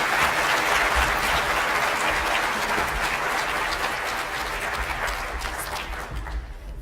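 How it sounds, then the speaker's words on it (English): A large conference audience at a general session claps in a loud, sustained burst of applause that holds steady and slowly fades, with no voices over it. "can we please give them all a round of applause?"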